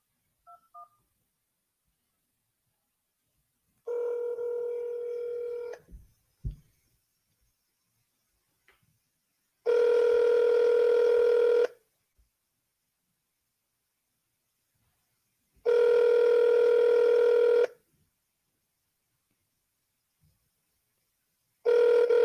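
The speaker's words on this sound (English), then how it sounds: "Let's call these people up." A telephone call is placed: a quick run of dialing tones, then a steady ringback tone repeating in long, evenly spaced bursts with silence between.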